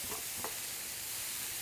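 Rice sizzles steadily in a hot pan as it is stirred, with a soft scrape or two early on over a continuous close frying hiss.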